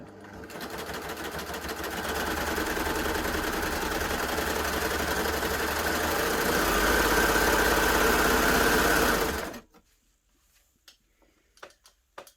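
A Baby Lock Gloria combination cover stitch and overlocker runs steadily, stitching a triple cover stitch with decorative thread, a fast even mechanical whir for about nine seconds before stopping abruptly, followed by a few faint clicks and handling sounds.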